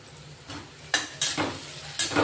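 Chopped onions with salt sauté in a pan for a Marathi village-style dry sprouted moth bean dish, a soft sizzle broken by several sharp scrapes and clinks of a spatula stirring against the metal.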